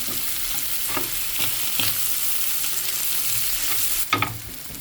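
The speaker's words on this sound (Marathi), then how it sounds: "बरें मिक्स करून घेवपाचें रेच्याद मसाला." A spatula stirs crab filling with Goan recheado masala in a hot pan, giving rhythmic scrapes and knocks over a continuous close sizzle, ending with a louder clatter.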